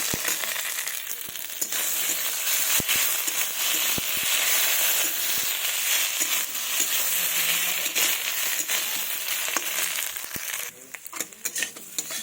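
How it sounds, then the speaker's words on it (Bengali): Spices are stir-fried in a pan for a fish belly dish with okra and vegetable stems, a continuous crackling sizzle broken by sharp scrapes and clinks of a utensil against the pan, with no talking. "আমি মশলা দিয়ে দিয়েছি এবার ভালোভাবে কষিয়ে নেব"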